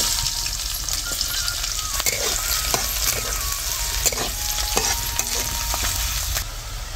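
Onion frying in hot oil in a kadhai already seasoned with cumin and mustard seeds gives a steady, loud, close sizzle and crackle, with small pops and spatula stirs throughout and no voices.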